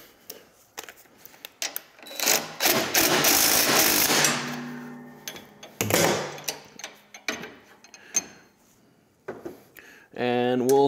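A ratchet clicks in quick bursts as a bolt is tightened while a zero turn dethatcher is assembled, with pauses between runs of clicking and someone talking intermittently close by.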